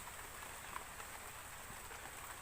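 Rain falling in a forest in a Hmong rural setting, a steady even hiss of drops on surfaces with faint scattered patters, continuous and fairly quiet with no voices.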